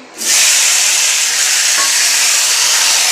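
Oil in a kadai on the stove bursts into a loud, steady sizzle after a brief quiet start, then keeps hissing intensely and evenly, close by and with no voices.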